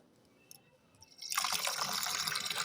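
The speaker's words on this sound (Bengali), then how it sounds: "আমি জল দিচ্ছি" Water pours onto potted rose plants at home, starting as faint drips and then a sudden steady gush, splashing and hissing close by.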